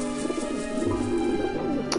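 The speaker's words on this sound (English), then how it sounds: "Robert, when the birds go to eat the bread, Robert Frost is gonna scare the fuck out of" Pigeons or doves coo softly and repeatedly in Grim Fandango Remastered, a steady low murmur of bird calls running under the game's background ambience with no one talking.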